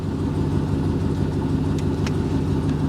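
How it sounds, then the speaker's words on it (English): A 2018 Ford F-150's engine idles with a steady, low droning hum as its air-conditioning compressor runs, unchanging throughout with no talking. "Yeah, I heard the compressor."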